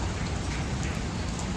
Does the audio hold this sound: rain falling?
yes